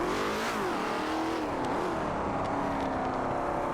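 AI-driven race cars scream around a circuit in a racing video game, several engines revving and shifting in a dense, continuous roar with rising and falling pitch as cars pass.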